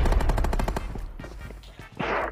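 Rapid automatic gunfire in a shooter video game, a dense loud burst of shots that thins into scattered single shots before a final noisy blast.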